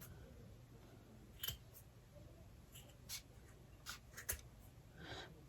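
Scissors cutting fabric for a gnome wreath stuffie, faint, sparse snips and rustles spaced a second or so apart against a quiet room hiss.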